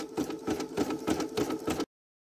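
An embroidery machine stitches a 3D puff design in a quick, regular mechanical rhythm of close thumping pulses, then stops abruptly.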